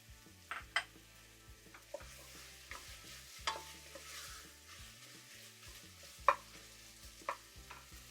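Ground meat sizzles quietly in a pan with tomato paste while a utensil scrapes and stirs it, with occasional sharp clicks against the metal.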